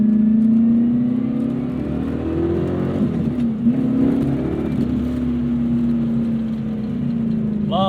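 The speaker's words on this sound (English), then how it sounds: "Love the pushrod V8 sound and character." A 1994 Corvette C4 with the LT1 pushrod V8 revving steadily under load, a loud, continuous engine drone with rising and falling pitch heard from inside the car.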